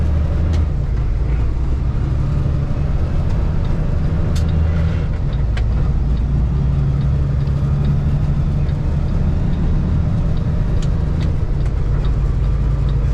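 A semi truck engine drones steadily and close while the rig drives a highway merge onto Arizona 202 west, with low rumble and slight shifts in pitch as gears change; no talk is heard.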